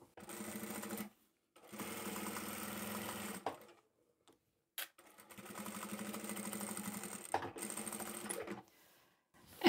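Sewing machine stitching a seam on a drawstring bag, running in two bursts of steady whirring separated by pauses and small clicks, close and fairly quiet.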